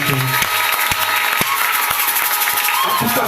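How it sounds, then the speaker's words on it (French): A church congregation breaks into dense, continuous applause that fills the room, mixed with crowd noise and a voice running underneath. "Est-ce qu'on peut applaudir pour Dieu?"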